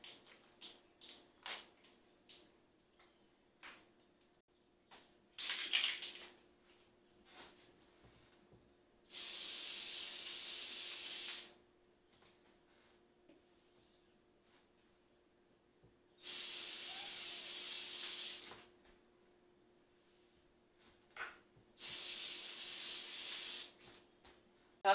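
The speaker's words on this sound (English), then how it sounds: "I have this color misting spray stuff" Several hissing bursts of color misting spray on a cake, a short one followed by three longer sprays, separated by quiet pauses with faint tapping.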